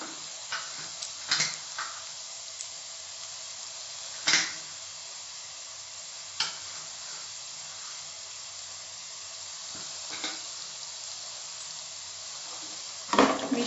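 Lemon rice with turmeric sizzles steadily in a pan, a soft continuous hiss broken by occasional scraping clicks of a spoon as it is stirred.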